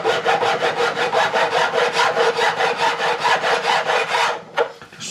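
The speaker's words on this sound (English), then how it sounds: "Now I'm going to hit it with a file, like so." A metal file rasps back and forth across the wooden neck of a Warwick Corvette Double Buck bass, about twenty even, rhythmic strokes, close and loud, ending with a couple of knocks.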